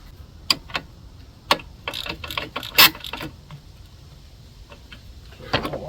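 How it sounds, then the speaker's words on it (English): A ratchet wrench clicks as the pivot and tensioner lock bolts are tightened on the alternator of a 2008 Subaru Impreza, with close, irregular bursts of sharp metallic ticks and pawl clicks and short pauses between strokes. "we do want to cinch down the pivot a little bit better, as well as the tensioner lock bolts."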